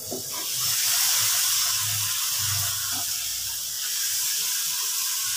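Water added to frying masala in a pan for kadhi pakora sets off a steady loud hiss and sizzle of steam that lasts the whole stretch, with no talking.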